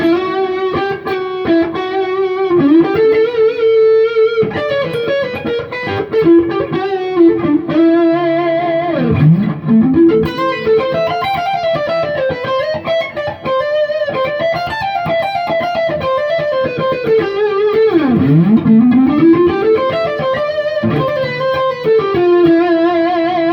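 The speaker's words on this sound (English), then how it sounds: "Here's a medium gain neck pickup full humbucker." A 2018 USA Gibson SG Standard HP electric guitar plays melodic lines through its neck humbucker with medium-gain overdrive, sustained distorted notes and bends running continuously and prominently for over twenty seconds.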